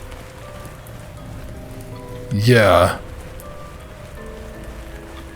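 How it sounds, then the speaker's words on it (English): Steady rain patters throughout a spooky camp scene in the horror video game Camp Clover, with big drops on the ground, while a voice briefly speaks over it midway. "those are some big ass raindrops"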